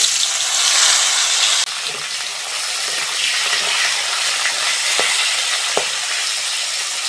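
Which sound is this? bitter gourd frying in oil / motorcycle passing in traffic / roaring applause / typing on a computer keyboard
bitter gourd frying in oil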